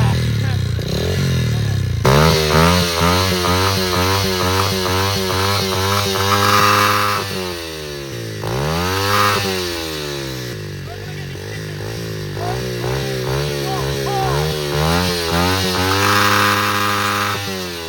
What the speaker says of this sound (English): We're gonna rev this before we go.